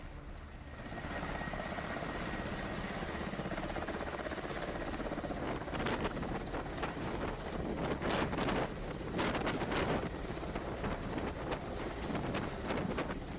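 Helicopter landing during flood rescue operations in Shimla, a loud, continuous rotor and engine roar with wind buffeting and rhythmic blade chopping, sustained close throughout without speech.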